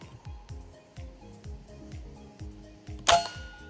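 One sharp, loud report from a hunting gun rings out in a forest during a squirrel hunt, near the end of the clip, after a stretch of quiet rhythmic rustling and thumps.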